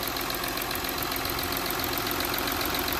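A VW Touareg engine idles steadily and close by after a new belt was fitted, a continuous even rumble with no voices.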